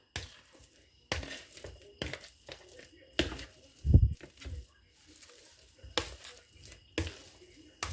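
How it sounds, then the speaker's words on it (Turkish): Boiled potatoes being mashed for puree in a pot, heard as intermittent soft thuds and scrapes at an irregular rhythm, close and fairly quiet, with one heavier thump partway through. "Haşladığımız patates püresini ezelim."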